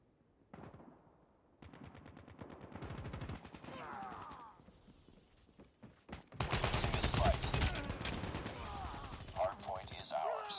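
AK-47 bursts in Call of Duty Mobile during a ranked Hardpoint match, rapid automatic fire in several bursts that grows louder and denser toward the end, mixed with game effects.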